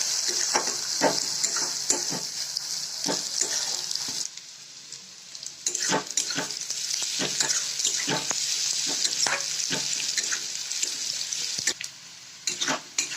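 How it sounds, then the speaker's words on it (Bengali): Onions fry in hot oil in a pan with a bright, steady hiss and crackle, broken by repeated scraping strokes of a spatula stirring; no one speaks. "পেঁয়াজটা একটু ভাজা ভাজা হোক।"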